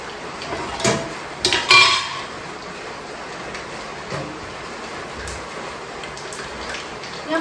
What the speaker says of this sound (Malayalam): പുറത്ത് നല്ല മഴയുടെ ശബ്ദങ്ങളുണ്ട്